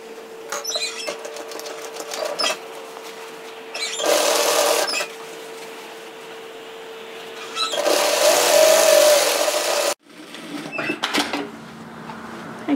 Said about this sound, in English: then sew that all the way to the hemline.